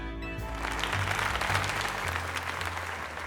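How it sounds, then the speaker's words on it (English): Applause from a crowd in the video game Pokémon Legends: Z-A after a tournament win, a steady wash of clapping over a low sustained musical tone, continuing evenly for a few seconds. "let us give another heartfelt round of applause to Moko"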